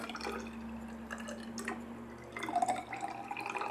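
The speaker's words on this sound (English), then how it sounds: "We'll pour 100 ml back into our measuring container." Cyanotype chemical solution is poured into a measuring container, giving trickling, splashing liquid sounds with a few drips, close and fairly quiet.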